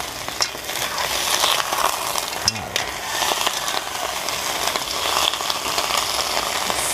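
Mussels (tahong) for tinola sizzle and crackle in a cooking pot as they are stirred, a dense, fairly loud frying hiss running throughout with one brief low knock midway.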